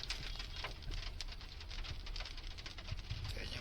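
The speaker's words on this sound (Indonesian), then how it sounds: "Udah mulai hujan nih bre." Light rain starts to patter around a GoCar ride-hailing car, a soft steady crackle of drops that stays faint and even throughout.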